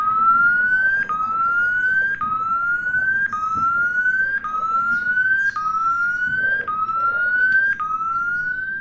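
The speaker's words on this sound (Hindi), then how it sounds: "इसको ऑन करने के बाद 30 सेकंड तक यहाँ पे आवाज़ आता है" A Redmi Note 10 speaker-cleaning tone plays alone: a loud electronic whistle that sweeps slowly upward, resets and repeats about every second in a steady siren-like cycle.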